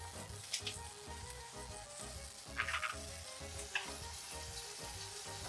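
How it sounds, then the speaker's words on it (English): Pancetta sizzles in a hot pan for an amatriciana sauce, a steady crackling fry close up with occasional sharper pops and a faint rhythmic stirring underneath. "Drop in our pancetta, get that cooking up."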